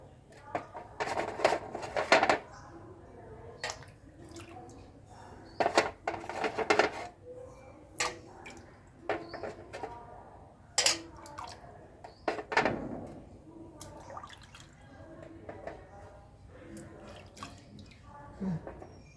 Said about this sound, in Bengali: এই প্রদীপগুলো এখন আমি দেখো ভালো করে জলে ধুয়ে নেবো